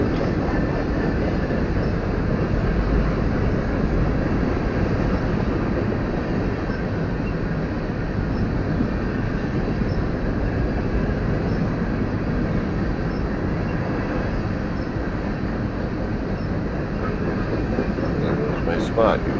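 A BNSF freight train rolls past trackside, a loud, continuous rumble and wheel noise that holds steady throughout without fading.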